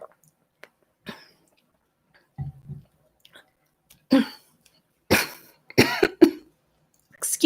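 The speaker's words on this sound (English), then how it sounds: "And so I'm like coughing because of dust right now." A person in a dusty house coughs several times, sharp, close bursts that come in small clusters, with throat clearing and quiet breaths in the silent gaps between them.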